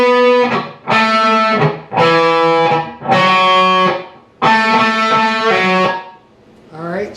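Electric guitar with a distorted tone plays the interlude from a song, sustained chords broken by short gaps of muted dead notes, a handful of loud phrases close and alone.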